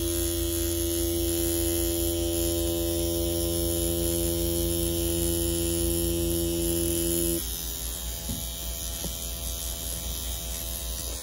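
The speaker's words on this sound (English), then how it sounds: "So for the first time of pulling a line with this sort of tattoo machine" A Mummy C1 tattoo machine runs with a steady, loud electric hum and buzz that holds evenly throughout, shifting slightly in tone partway through as it keeps running, with no talking.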